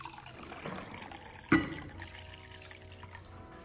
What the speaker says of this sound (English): you put the cold water like this